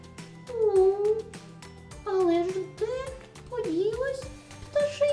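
A storyteller's voice imitates a kitten in a children's tale with several drawn-out, gliding meows, each rising and falling in pitch, separated by short pauses.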